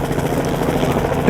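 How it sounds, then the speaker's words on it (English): A helicopter hovers and circles close overhead, its rotor producing a loud, dense, continuous thumping roar. "this time literally a helicopter is coming by"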